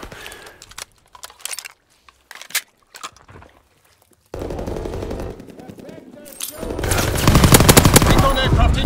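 Gunfire in Call of Duty WWII multiplayer starts as scattered faint clicks and pops, then turns into loud, sustained machine-gun bursts that fill the second half.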